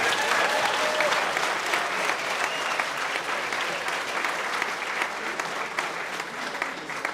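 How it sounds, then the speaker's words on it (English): A crowd of families and guests at a school signing day ceremony give students a big round of applause, dense continuous clapping that holds steady and strong from start to finish. "Another big round of applause for all of our students."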